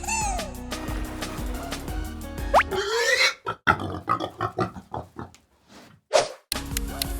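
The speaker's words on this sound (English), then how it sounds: "Pig." A pig grunts and snorts in a rapid string of short, choppy bursts, loud and close, with upbeat music playing before and after.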